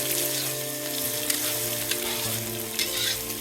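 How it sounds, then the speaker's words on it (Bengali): Spice paste for meat sizzles steadily in hot oil at an outdoor farm picnic, a loud, continuous frying hiss with a few sharp stirring clicks breaking through. "এই যে মাংসের জন্য মশলা কষানো হচ্ছে"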